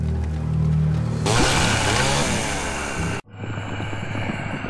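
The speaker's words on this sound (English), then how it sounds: "This chainsaw ain't getting any lighter." A chainsaw in the video game Evil Dead Regeneration roars loudly and continuously, its engine revving harder midway before cutting abruptly and settling into a lower rumbling idle.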